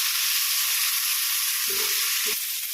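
Tomatoes and curry leaves sizzle steadily in hot oil while prawn thokku is being cooked, a loud, continuous frying hiss with a couple of brief bursts of spattering near the end.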